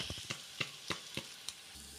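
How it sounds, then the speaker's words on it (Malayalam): Onions sautéing in a pan with turmeric and chili powder, quiet sizzling punctuated by about half a dozen sharp scraping stirs at a regular pace, close and faint overall. "എടുത്തു വെച്ച മഞ്ഞൾപ്പൊടി കൂടെ നമുക്ക് ഇട്ടൊന്ന് നന്നായിട്ട് വഴറ്റി കൊടുക്കാം"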